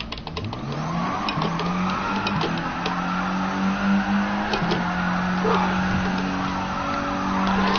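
Car spinning out in Gran Turismo Sport after a failed Scandinavian flick, a steady mid-pitched engine drone with shifting revs and a faint tyre squeal, loud and continuous with no talk.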